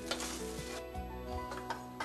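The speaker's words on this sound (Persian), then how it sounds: "در این مرحله در حدی که آرد یک مقدار تفت داده بشه کافیه" Flour toasting in a pan for chicken croquettes: a soft, close sizzle broken by a few scraping stir strokes from a utensil against the pan.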